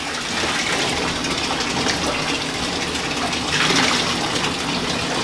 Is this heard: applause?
no